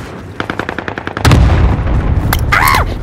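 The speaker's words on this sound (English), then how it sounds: "Cluster strike is active" Cluster airstrike in the Call of Duty Warzone video game: a quick run of sharp cracks gives way to a loud, sustained rumbling blast, followed by a brief whistling tone. Loud and close, with no voices.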